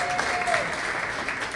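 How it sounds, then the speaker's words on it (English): Audience applause for performers at a live East Texas songwriter showcase, a steady dense wash of clapping from a crowd, fairly loud and continuous with no talking. "Once again, give a big round of applause for all our performers."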